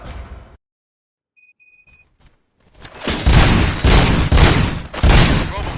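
Gunfire from a Robocop video game breaks out after a short silence and a few electronic beeps, a dense rapid fusillade of loud bursts that keeps pounding to the end.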